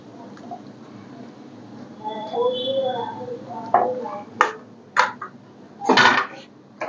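Pieces of rohu fish are set one at a time into a pan of simmering Bengali curry, giving a few soft wet thumps and splashy sizzle bursts that stand out from the steady low bubbling of the pan.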